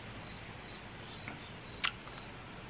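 Crickets chirp at night in a neighborhood, giving about five evenly spaced, shrill bursts close by, with one sharp click partway through and no talking.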